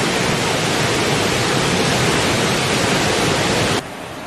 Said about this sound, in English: Victoria Falls in Zimbabwe